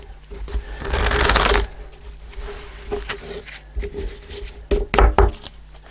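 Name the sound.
shuffling tarot cards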